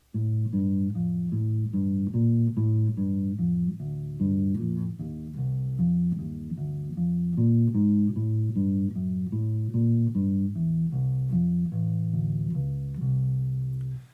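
A steady walking bass line, one plucked note per beat moving smoothly up and down, played alone and evenly for the whole stretch.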